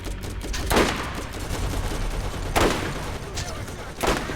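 An enemy auto turret fires in Borderlands, sharp bursts of gunfire repeating about every couple of seconds over continuous game background noise.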